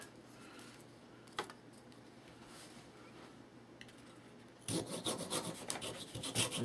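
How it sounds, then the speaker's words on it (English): Light plywood edges are sanded by hand, quiet rasping rubs at first with a few isolated scrapes, then louder, quicker back-and-forth strokes near the end. "So we'll sand the edges off."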